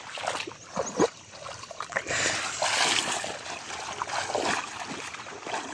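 Children splash in water in a makeshift homemade swimming pool, with repeated close, sloshing splashes and surges of churning water and no clear talk.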